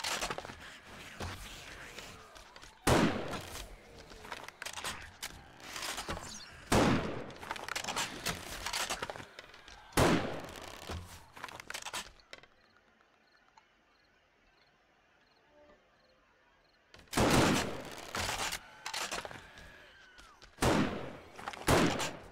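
Gunfire erupts in 7 Days to Die as a player shoots at a big green mass of zombies on horde night, coming in loud, dense bursts that are split by a quieter stretch full of insect-like chirping.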